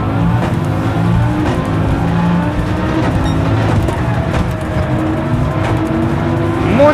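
In the Gran Turismo 7 video game, a 2600-horsepower car roars along the Shuto Expressway at night, a loud, continuous engine drone with shifting pitch and occasional tire noise throughout.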